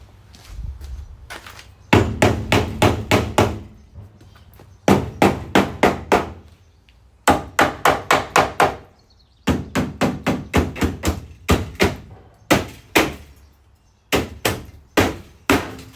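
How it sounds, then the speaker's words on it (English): A metal hammer strikes metal again and again during rear floor work on a Jeep Cherokee. Loud, ringing blows come in quick bursts separated by short pauses, close by, with no talking. "metal hammer."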